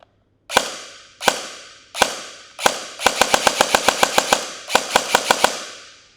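A Double Eagle DMP-9 airsoft gun fires four single shots, then bursts into rapid full-rate strings of sharp cracks, each leaving a brief ringing decay, loud and close with no talking.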